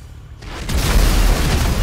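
Gunfire in a GTA 5 Online multiplayer match: a loud, heavy boom-like burst swells in after a brief quiet start and rumbles on, dense and sustained, with no voices.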